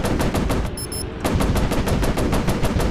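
Rapid machine-gun fire from a fighter plane in the Pacific air-combat game WarPlanes, a loud steady stream of shots broken by a short pause before it resumes.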